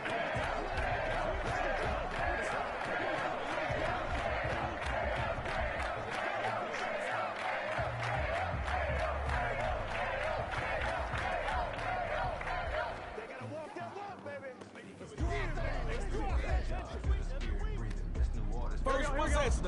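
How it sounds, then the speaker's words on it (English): A packed stadium crowd in the American football video game Madden roars and chants continuously, a dense wash of cheering that briefly thins before surging back loud, with an announcer talking over it. "the crowd is ready for action"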